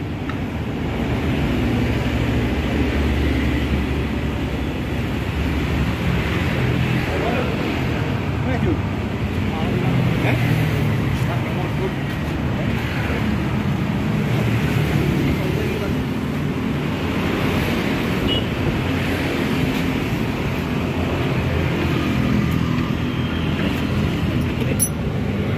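A 10 HP Jiangfa diesel hopper engine chugs steadily at idle, a continuous low mechanical rumble with some outdoor background noise throughout.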